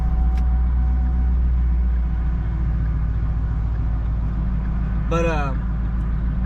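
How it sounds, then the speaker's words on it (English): A car engine idles steadily, heard from outside, with a low, even rumble. A short high squeal cuts in briefly, and a voice speaks a single word. "the idle quality on the outside sounds real good, way better"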